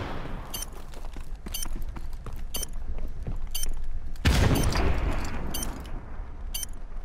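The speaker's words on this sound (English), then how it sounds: "So many nades. So many flashes." Grenades and flashbangs go off in a Call of Duty Search and Destroy round, a heavy blast near the middle amid scattered sharp pops and clinks, loud and busy throughout.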